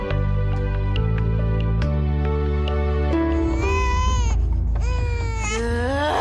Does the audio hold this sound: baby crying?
yes